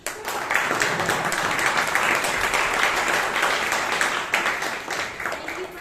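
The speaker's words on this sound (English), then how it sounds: "Can I get applause?" Steady applause fills a Toastmasters meeting room in Bangalore, a dense patter of many hands clapping at an even level for several seconds, with no other sound above it.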